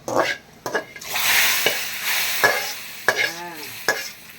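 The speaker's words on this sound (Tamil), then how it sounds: "குழம்பு தாளிச்சு விட்டுலாம்" Spices tempering in hot oil for mutton biryani curry: a loud, close sizzle with sharp spatter bursts, bright hiss, and a few metallic scrapes and clinks of a ladle against the pan.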